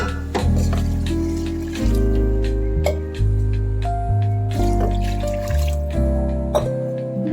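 Water is poured into a spiced cooking pot for vegetable biryani, giving close, fairly loud trickling and splashing in several pours, with a few drips, and no talking.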